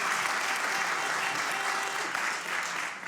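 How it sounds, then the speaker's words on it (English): Audience applause greets panelists at an Ethereum rollup decentralization panel, a steady dense wash of clapping that stays loud and even throughout, tapering slightly at the end. "clap now."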